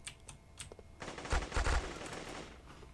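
Gunfire in the block-building shooter Guncraft, a dense burst of rapid shots beginning after a few sharp clicks, loud and close, with no talking.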